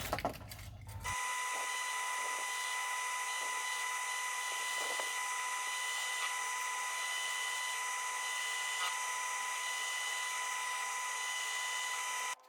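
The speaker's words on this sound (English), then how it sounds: "Now rip these hooks off and drill more of that lead out." Steady high-pitched drill whine, loud and continuous for about eleven seconds after a brief start, boring lead weight out of a wooden timber fishing lure with its hooks removed.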